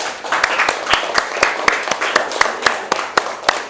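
A classroom audience at a school teaching-practice session claps together in a steady run of sharp, close handclaps for a few seconds, with no voices on top.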